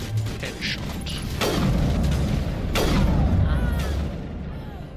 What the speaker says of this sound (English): I just ate a rocket to the face.